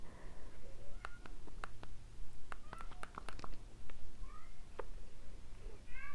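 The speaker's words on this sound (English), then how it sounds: "Sorry, my cat's in there." A house cat gives several short, faint meows at irregular intervals over quiet background noise.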